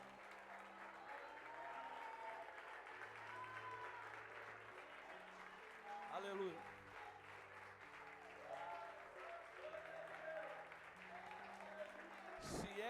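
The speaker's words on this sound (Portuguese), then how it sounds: "Enquanto você aplaude, glorifica Ele." A church congregation applauds softly in the background while a voice speaks and calls out in praise, with music playing underneath the clapping.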